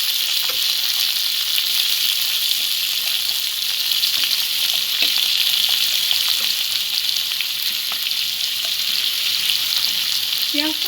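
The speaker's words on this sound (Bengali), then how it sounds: "পেঁয়াজটা একটু ভেজে নেব আগে।" Onion frying in hot oil sizzles steadily and fairly loudly, a constant hiss that goes on without a break, with a few faint stirring clicks.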